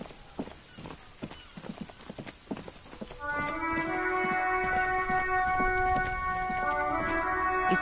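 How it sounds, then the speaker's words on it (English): Steady rain falls in the video game Disco Elysium, starting as scattered drips and thickening into a continuous hiss, with a tonal musical drone layered over it in the second half. "It's raining again."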